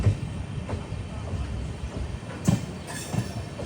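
Ernakulam–Velankanni Express pulling away from a platform after sounding its horn, wheels rumbling and clattering steadily over the rails with a few sharper clanks, no talk.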